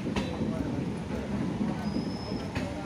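A Chennai local train on the Gummidipundi line rolls along with a steady close rumble of wheels and carriage rattle as an express train approaches on the other track, a faint squeal cutting through while someone talks over it.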